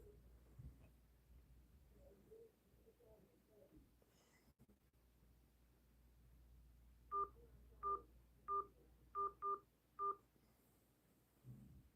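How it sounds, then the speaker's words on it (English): A series of six telephone keypad DTMF tones entering a six-digit code for a court hearing conference line, short evenly spaced beeps after quieter background noise, faint overall and alone without talk. "Please enter your 6-digit conference code."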